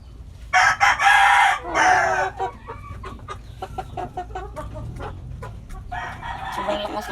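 Three-month-old backyard chickens make a loud close crow near the start. Scattered clucks and soft pecking noises follow over a low outdoor background.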